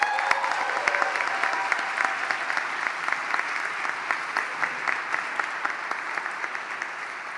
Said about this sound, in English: can we give a loud round of applause for the candidates tonight?